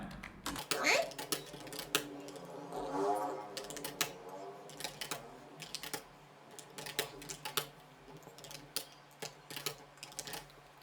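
Computer keyboard typing at a close distance, quick irregular bursts of key clicks while student names are entered into an Excel sheet, with an adult voice speaking over parts of it.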